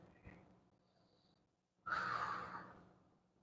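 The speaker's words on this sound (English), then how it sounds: "Calmly breathing." Calm, close breathing before a 9-ball break shot at a pool table: a quiet lead-in, then one audible, drawn-out exhale that fades away.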